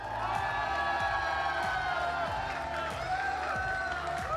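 A large crowd at the Pokémon North American International Championship cheers and whoops for the new champion in a big hall, a loud continuous roar with music-like tones running underneath.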